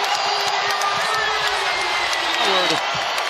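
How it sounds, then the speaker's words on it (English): Arena crowd in NBA 2K23 erupts in sustained cheering and applause after a Celtics win over the Bucks, a broad steady roar with a commentator's voice talking over it. "With the applause, deservingly so."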